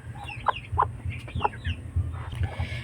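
Small hen clucking close by while being settled to brood on eggs, a few short, sharp clucks scattered over a low steady background hum.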